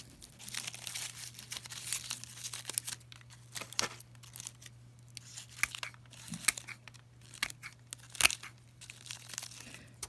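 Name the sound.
trimming old roots of a Catasetum orchid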